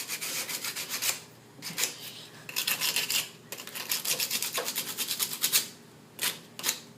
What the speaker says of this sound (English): Be careful that you don't sand it all the way, like, to the bone.